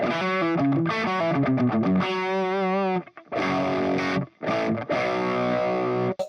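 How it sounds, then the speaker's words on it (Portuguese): Amplified electric guitar played through a fuzz pedal set fairly conservatively, giving thick, saturated distorted notes and sustained chords, loud and continuous with brief gaps and no talking. "porque eu quero ouvir esse fuzz"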